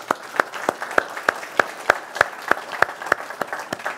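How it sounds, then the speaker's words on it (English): Audience clapping for the camera and audio crew at a BSOP Series live event: a steady, evenly spaced run of sharp claps that sounds like a small group beating time together, close and clear for the whole stretch. "So just give them a round of applause."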